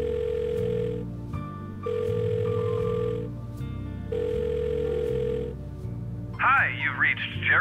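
A telephone rings in the video game The Blackwell Deception, three long tonal rings with pauses between, before a voice answers at the end.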